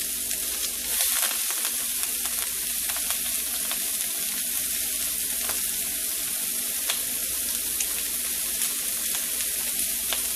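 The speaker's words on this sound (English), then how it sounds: "I'm going to add my sweet onion, my thyme, my green onion," Sweet onion, thyme and green onion fry in a pot with bacon for Jamaican turn cornmeal, giving a steady, close, even sizzle with a few brief crackles throughout and no talking.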